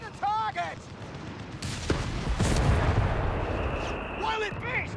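Company of Heroes 3 battle between British and German forces: loud rolling gunfire and booming artillery rumble through the middle, with radio-style unit voice lines and chatter before and after.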